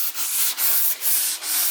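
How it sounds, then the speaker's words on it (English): Rhythmic back-and-forth scrubbing of 80 grit sandpaper over body filler on a car, four even strokes close up with brief pauses between passes, no talking. "How's this stuff sanding, Bri?"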